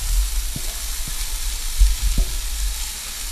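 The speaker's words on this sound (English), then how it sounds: "you just want to saute this a little bit" Peppers sautéing with onions and garlic in a pan, a loud steady sizzle with a few low knocks of the utensil against the pan.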